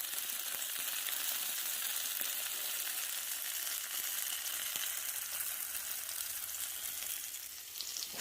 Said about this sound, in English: I'm going to saute and char Roma tomatoes, jalapeno, onion, and 2 cloves of garlic